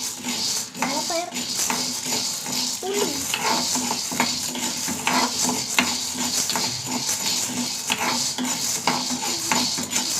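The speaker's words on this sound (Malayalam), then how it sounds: "വെള്ളപ്പയറൊന്ന് വറുത്തെടുക്കുക." Dry white beans rattle and scrape in a pan as they are roasted and stirred, with steady clinks of a utensil over a constant background hiss and faint voices.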